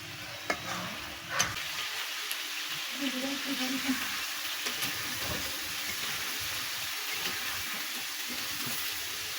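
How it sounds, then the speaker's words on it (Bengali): Beef brain is gently stirred as it fries in a pan, producing a soft, fairly faint sizzle with occasional light scrapes and taps, including a couple of sharper knocks early on. "আস্তে আস্তে নেড়ে মগজগুলো কষিয়ে নিতে হবে"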